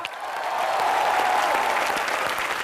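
A studio audience at a Hindi comedy show breaks into applause, a loud, dense burst of clapping that swells quickly and holds steady, with a few faint voices under it.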